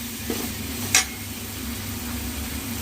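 Onion and tomato sautéing with rock salt in a pan for Nellai-style tamarind kuzhambu: a low, steady sizzle with a sharp clink of a utensil near the start and faint stirring scrapes, no talk.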